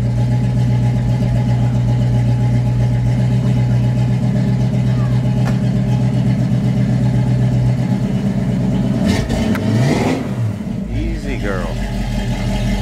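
A Honda car engine idles steadily right after a cold start, a close, continuous low hum that holds for most of the stretch, with brief shifts and clatter near the end.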